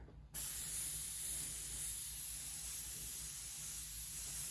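Spray paint hisses from an aerosol can in one steady, continuous burst after a brief quiet start, close to the microphone with no voices.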